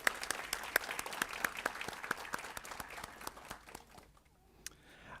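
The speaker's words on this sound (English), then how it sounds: "Let's give Lucille a round of applause." Audience applause at a school board of education meeting honoring a student, steady clapping from a crowd in a hall that fades out toward the end.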